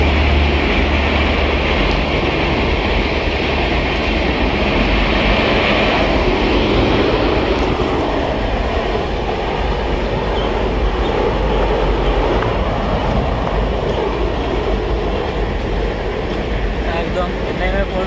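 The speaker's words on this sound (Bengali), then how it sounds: "তোমাদের একটা দারুণ জিনিস ট্রেন দেখেছো কোনোদিন দেখে নাও" A train rumbles past near a river, a loud, steady roar and clatter that holds for the whole stretch, with voices faintly underneath.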